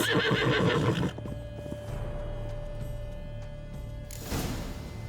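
A horse in The Witcher 3 video game lets out a loud, shrill whinny at the start and another near the end, with hoofbeats in between over a quieter game ambience.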